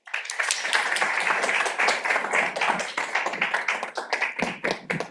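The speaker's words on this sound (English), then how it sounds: "please give a nice round of applause for our first speaker tonight" An audience applauds a speaker at an evening talk: a dense, steady burst of many hands clapping, loud and close, holding evenly for about five seconds before thinning slightly at the end.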